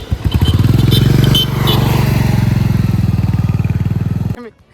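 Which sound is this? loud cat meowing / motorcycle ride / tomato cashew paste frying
motorcycle ride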